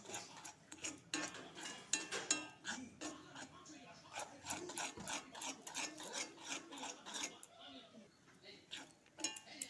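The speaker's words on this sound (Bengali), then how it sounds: "চিনি শিরার সাথে ভালো করে নাড়াচাড়া করব ভালো করে আঠা হইতে দিব" Chickpea laddu mixture is stirred with sugar syrup in a pan, giving steady scraping and rasping strokes of a utensil against the metal in a quick repeating rhythm, close and moderately loud, with no talking.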